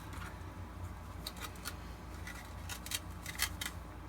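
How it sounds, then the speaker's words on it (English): Curved scissors snip at a Shadow Trooper armor build part, leaving a series of short, crisp cuts in irregular clusters, close and quiet over a low background hum. "Let me use the curved scissors to do the other parts"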